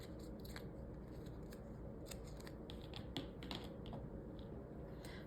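Scissors cut through thin string with a few quick, faint snips close by over a low steady background hum, with no talking.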